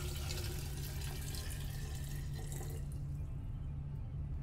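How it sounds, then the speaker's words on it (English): Water poured into a jar to make giardiniera brine, a steady broadband pouring and splashing that runs for about three seconds, then thins out and fades as the flow stops. "Add 8 cups of water to a jar."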